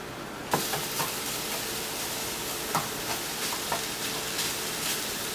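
Chicken fried cauliflower rice with sausage sizzling in a pan, a continuous hiss broken by light scraping stir strokes that come at irregular intervals, close and fairly soft.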